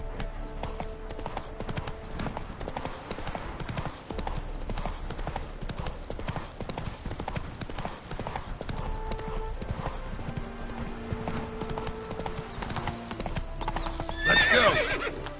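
Roach the horse gallops in The Witcher 3 with rapid, continuous hoofbeats and a loud neigh near the end, set over quiet game music.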